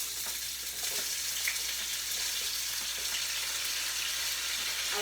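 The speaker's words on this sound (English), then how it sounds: "Gonna fry it for some time. Gonna fry that" Onion frying in a pot for one-pot rice, a continuous close, crackling sizzle of hot oil with faint stirring.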